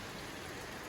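Heavy rain pours outside an RV, a dense, steady wash of drops drumming on the roof and surroundings, with no voices.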